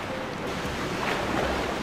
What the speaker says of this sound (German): dann werde ich mich jetzt erstmal hier mal wieder den Fluss runtertreiben lassen